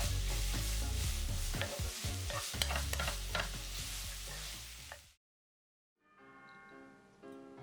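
A squid and fish cake stir-fry with chili, sesame oil and sesame seeds is stirred and scraped in a hot pan. The clatter and sizzle come close and loud, then stop abruptly before a fainter, quieter stretch.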